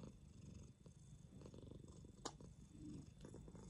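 A fluffy cat purrs close up, a soft, continuous rhythmic rumble with faint rustling and no talk.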